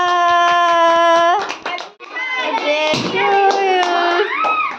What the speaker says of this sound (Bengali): হাততালি দাও, হাততালি দাও।